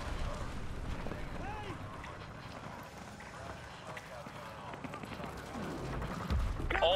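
Heavy battlefield gunfire and explosions in Call of Duty: Modern Warfare 2 Campaign Remastered as an evac landing zone comes under attack. A dense, continuous roar of fire runs throughout with voices talking over it, swelling louder near the end.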